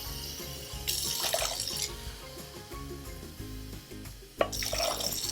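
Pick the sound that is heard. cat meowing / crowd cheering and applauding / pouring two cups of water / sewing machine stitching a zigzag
pouring two cups of water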